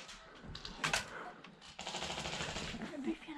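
Airsoft guns fire full-auto bursts during a skirmish at HDS: rapid rattling strings of shots, one short burst and then a longer sustained volley, with voices talking in the background.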